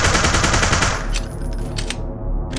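Rapid automatic gunfire in a video game, shots fired through a wall, crackling in a dense burst that thins out into scattered sharper reports, loud and close with no voices.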